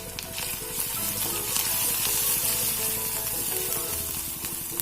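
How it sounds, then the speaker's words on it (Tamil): Spices including turmeric, fennel and chilli powder sauté in hot oil for a quail egg roast, giving a dense continuous sizzle with faint stirring scrapes and no talk. "ஒரு 2 நிமிஷம் வதக்கலாம்."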